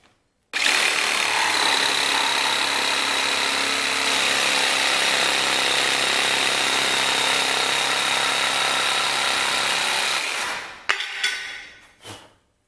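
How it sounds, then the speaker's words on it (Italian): A Ryobi 18V cordless jigsaw cuts through a soft MDF panel at reduced power with zero blade aggression. It gives a steady, loud, buzzing rasp for about ten seconds, then winds down with a few brief clunks. "Ora proveremo a fare un taglio con una potenza ridotta su un pannello più morbido ancora in MDF."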